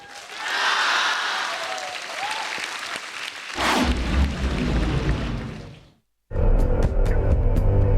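Studio audience applause at an Indonesian stand-up comedy show swells loudly, then gives way to a booming rumble and a brief cut before heavy music-like sound resumes, with little talk audible.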